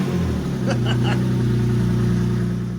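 A hearse engine runs close by with a raspy, rumbling exhaust note, holding a steady rev after a brief rise.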